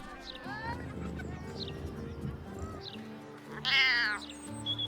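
In Baldur's Gate 3, a cat meows several times in rising, whiny calls, ending with a louder drawn-out meow, over soft game background music.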